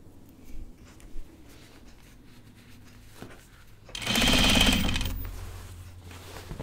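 A domestic sewing machine stitching a jacket runs in one loud steady burst of about a second and a half after quiet rustling and handling, with no talk.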